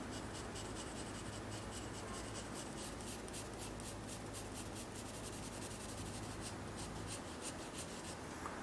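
Pencil shading on paper while drawing a potted plant, a close, continuous scratchy rubbing with quick rhythmic strokes repeating steadily, quiet and alone without any voice.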